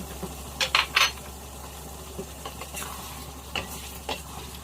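Pork belly being stir-fried with shrimp paste, torn kaffir lime leaves and bird's eye chilies, with a low steady sizzle under a few sharp, close clinks and scrapes of a spatula against the pan.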